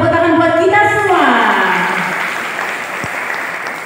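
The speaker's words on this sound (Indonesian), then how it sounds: "Tepuk tangan buat kita semua." Applause from an audience closing a regional teachers' best-practice sharing event in West Java, clapping rising beneath a speaker's voice at the start, then continuing alone as a steady, gradually softening patter.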